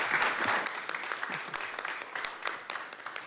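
Applause from an audience at a public school board meeting, a steady patter of many hands clapping in a room, moderately loud and continuous before thinning slightly.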